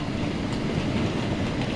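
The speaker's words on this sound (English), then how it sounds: "This is a Victoria Line train to Walthamstow" A London Underground Victoria Line train runs loud and close, with a steady broadband rumble and rail roar through the whole stretch and no voices.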